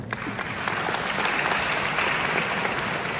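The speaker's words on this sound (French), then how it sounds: "on les applaudit bien fort." An audience applauds jury members at an evening competition during UNESCO's African Week, with steady, dense clapping throughout that stays even and sustained from start to finish.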